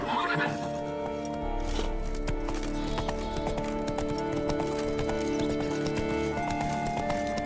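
A horse gallops in The Witcher 3, with steady rhythmic hoofbeats, neighs and snorts over continuous game music and ambience, all fairly loud and close.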